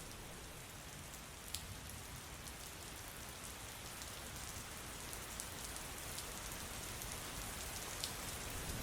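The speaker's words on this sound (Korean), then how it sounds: "오늘의 날씨는 비, 부슬부슬 내리는 봄비였다" Gentle spring rain falls steadily, a soft, even patter with occasional faint drips on a surface, heard continuously at low volume with no voices.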